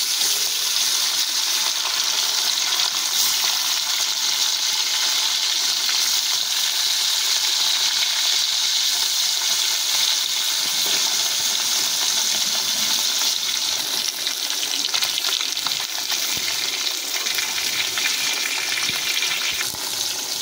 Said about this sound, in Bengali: তেলটা আমাদের গরম হয়ে গিয়েছে, এবার আমরা মাছগুলোকে দিয়ে দেবো।